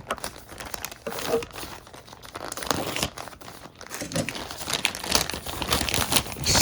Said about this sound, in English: I'm going to grab my handy dandy chisel and cut this open